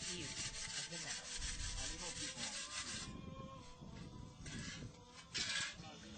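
Hand sanding of a Haitian cut-metal art sculpture, a steady rasping scrape in rhythmic strokes, close and fairly loud throughout with brief pauses.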